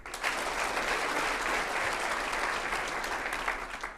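An audience at a city's state-of-the-city presentation gives sustained, loud applause, the dense clapping holding steady throughout the clip.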